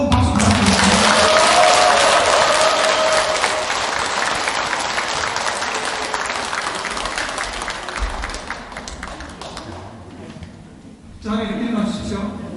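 Audience at a Buddhist dharma service in a temple hall applauds warmly for several seconds, the clapping broad and sustained before thinning out, with a brief fresh burst of claps near the end.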